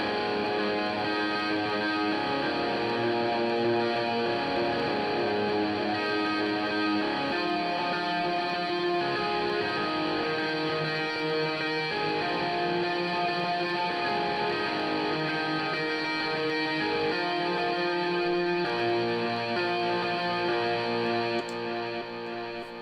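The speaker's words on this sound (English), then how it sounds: "This one here, that's a big reverb." A sustained, distorted electric guitar rings out under a big, washing reverb, with chords blurring into one another, loud and continuous with no talking.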